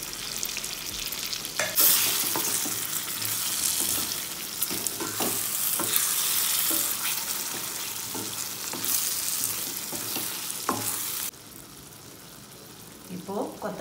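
Chopped eggs stir-fried in a hot pan sizzle loudly and continuously, with a spatula scraping and clattering in irregular strokes up close before the hiss drops slightly near the end.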